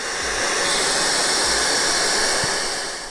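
Cordless handheld battery vacuum cleaner running steadily inside a camper van, a continuous loud whooshing hiss of motor and airflow with no pauses, close to the listener.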